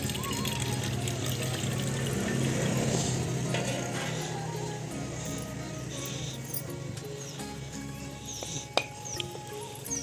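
Coconut water pours and trickles steadily through a strainer for several seconds, with a few light clinks and taps toward the end.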